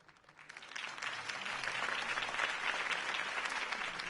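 A crowd applauds after a campaign speech in the Batman Telltale video game, a quiet burst of clapping that swells over the first second and then holds steady and dense.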